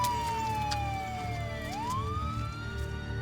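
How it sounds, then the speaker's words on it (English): An ambulance siren wails loudly and steadily, its tone sliding down and then sweeping back up, over a continuous rumbling background. "Ambulances arrive within minutes."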